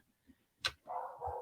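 A small all-black dog of about 20 pounds barks faintly in the background, a sharp knock followed by two muffled, distant barks with no speech over them.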